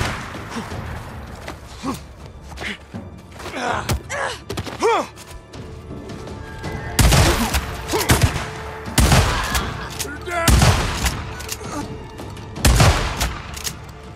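Sniper gunfire in the Days Gone video game, a series of loud booming rifle shots with echoing tails amid rumbling combat noise, spaced irregularly over the scene.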